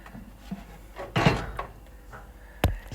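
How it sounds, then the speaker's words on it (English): A door is opened in a home kitchen, giving a few soft wooden knocks and a louder scraping thud midway, then a sharp clack near the end, against quiet room noise. "Door open."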